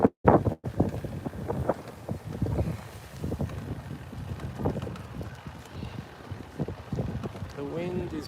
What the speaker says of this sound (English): The wind is blowing in all directions.